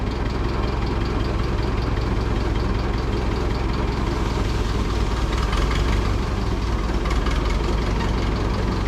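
A Super 44 tractor engine runs at a steady, loud, rough idle close by, with a dense low rumble and knocking vibration that does not break, and no voices over it.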